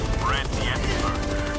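Gunfire in the video game Helldivers 2, a brief burst of rapid shots and a sharp whine under a busy mix, with a voice briefly present.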